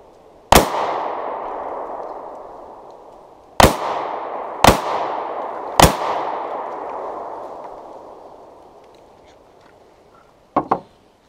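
Four sharp pistol shots from a Beretta 92FS firing practice loads at boulders outdoors, spaced irregularly, each ringing out with a long echoing decay, followed by a faint double click or impact near the end.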